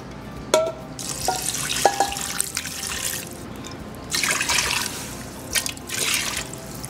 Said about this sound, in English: And I'm going to add some water to this.